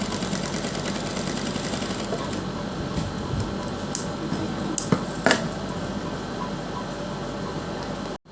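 A sewing machine stitches gota fabric strips in a continuous steady whir of rapid needle strokes, close and fairly loud, with a few sharp clicks and knocks near the end before it stops.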